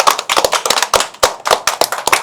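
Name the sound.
children clapping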